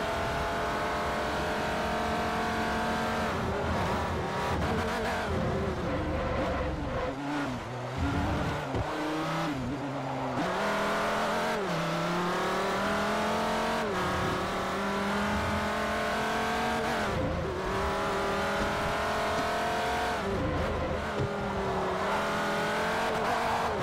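An LMP1 prototype race car in Forza Motorsport 4 drives hard, its engine loudly revving up and down through gear changes and sustained high-pitched whines, with brief tire squeals and no pauses.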